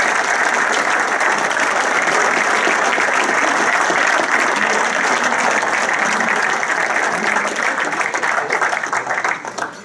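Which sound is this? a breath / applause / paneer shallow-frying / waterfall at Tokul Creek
applause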